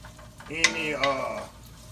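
Onions and garlic cooking in a pan for spaghetti sauce, with close scraping and stirring clinks of a utensil against the pan over a light sizzle, two short bursts of activity.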